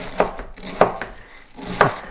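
Cabbage chopped on a board for sauerkraut, three distinct knife strikes with faint softer taps between them, close and unaccompanied by speech.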